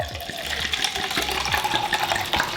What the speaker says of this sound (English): We're just gonna go ahead and pour this into the cups like so.